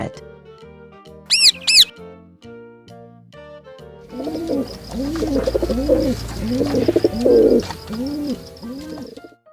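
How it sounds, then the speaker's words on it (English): Pigeon cooing up close, a run of soft repeated coos in a steady rhythm over a light outdoor background hiss, following a brief musical jingle. "Pigeon."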